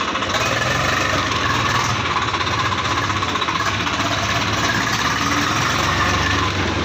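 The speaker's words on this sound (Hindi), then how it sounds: "करदे हुण स्टार्ट ट्रैक्टर" A Swaraj 855 FE XM tractor engine running, a loud, steady diesel chugging with a rapid even pulse throughout, heard close up with no talking.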